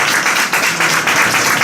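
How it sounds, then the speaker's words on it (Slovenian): Audience applause for a watercolour prize winner at a small art contest ceremony, dense steady clapping from a nearby crowd filling the whole moment without pause. "Aplavz, prosim."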